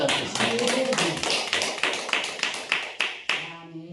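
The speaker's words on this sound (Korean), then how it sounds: "우리 일어나신 우리 주님께 박수로 영광을 돌려야 되지 않겠습니까?" A church congregation at a revival service claps in praise. Loud, rhythmic unison claps come at a steady pace of roughly three per second, and a voice rises near the end.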